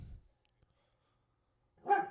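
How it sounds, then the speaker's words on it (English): A pet dog gives a single short bark, faint and brief, after a moment of near silence. "having the dog bark"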